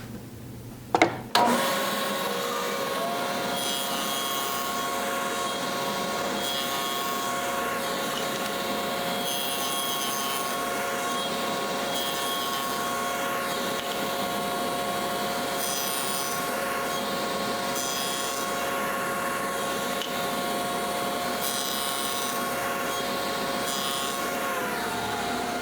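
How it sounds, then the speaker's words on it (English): DeWalt 7670 dado blade on a table saw cutting a tenon in ash hardwood: a sharp start-up knock, then a loud, steady whining drone with rough cutting texture that runs for about twenty-five seconds. "We'll just cut a tenon with the Dewalt Dado blade."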